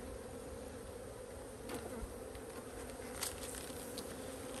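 Honey bees buzz around an open beehive, a soft steady drone close by with a few brief louder passes as individual bees fly near.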